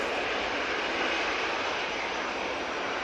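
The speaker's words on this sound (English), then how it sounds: "A321neo on the roll" Airbus A321neo jet on its takeoff roll at Manchester Airport, a steady loud broadband engine roar that holds constant throughout with no talk over it.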